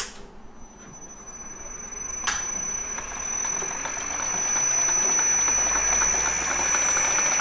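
A balancing machine spins a GT-R engine flywheel by belt up to 300 RPM, a low mechanical hum that rises and steadies after a sharp click, with a high whine sustained throughout.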